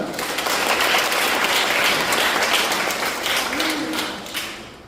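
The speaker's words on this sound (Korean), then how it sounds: "박수 환영하겠습니다" Church congregation clapping to welcome visitors during a Sunday worship service, a dense steady wash of applause that fades near the end, with faint voices underneath.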